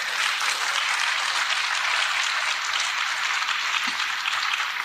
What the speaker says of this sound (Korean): 우리 성령님께 영광의 박수.